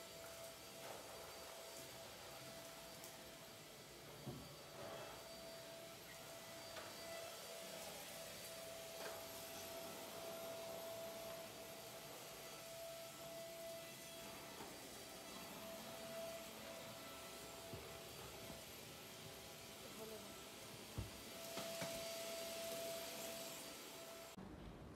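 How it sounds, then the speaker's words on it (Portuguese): A household vacuum cleaner runs steadily in a home, a continuous droning hum with a faint whine throughout, with occasional light knocks and no talking. "a Luísa passou um aspirador de pó."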